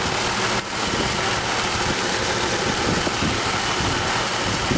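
A 2003 GMC Envoy SLE's Vortec 4200 six-cylinder engine idles in an even, smooth drone heard up close, with a brief soft click early on and no talking.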